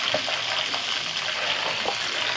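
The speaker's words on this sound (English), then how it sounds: "I've got the bath running" A bathtub fills from a running tap, a steady close rush of water with no breaks, broken only by faint splashy flickers.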